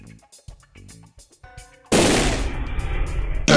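Gunfire bursts during a police confrontation, a dense roaring volley erupting loud and close after a stretch of quieter sounds, sustained for well over a second before cutting off and restarting.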